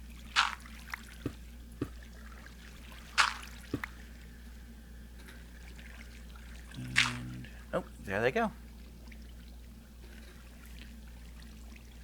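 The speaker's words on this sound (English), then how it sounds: "as the water flowed on top of them, they channel all of that water, and it creates water sources on top of them" In the Minecraft SevTech Ages modpack, water flows over farmland blocks with scattered splashy pours and drips, some louder bursts, while someone talks over the game sounds.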